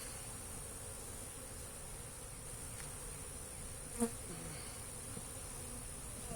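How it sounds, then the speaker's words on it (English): A steady, dense buzzing of many honeybees at an opened hive fills the whole stretch, with one brief soft knock partway through. "I didn't quite piss these bees off enough."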